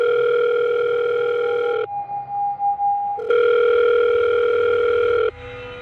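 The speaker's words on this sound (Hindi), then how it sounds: "और तभी उसकी अम्मी का फोन आया" An electronic telephone tone sounds, a steady dial-like tone interrupted by a brief higher tone, then resuming before cutting off.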